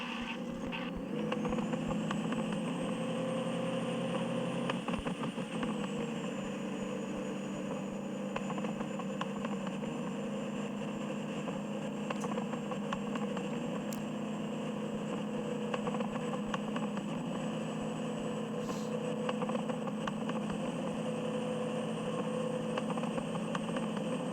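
Car engine driving in the video game Voyage 4, a steady, sustained drone with a high whine rising early then holding flat, occasional faint clicks, continuous throughout with no talking.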